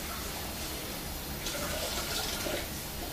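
Water being poured into a jar of green chillies and vegetables for achar-style pickling, a steady splashing pour close by, continuous for the whole stretch with no talk.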